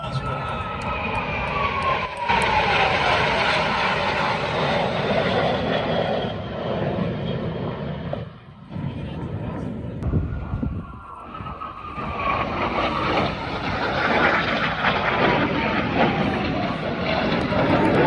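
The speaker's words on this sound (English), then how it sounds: "is the first jet race of the first day of the miracle at Roswell." Jet racing aircraft roar past at the first jet race of the National Championship Air Races in Roswell, New Mexico, a loud continuous engine whine with rising and falling passes, near and far, with voices faintly underneath.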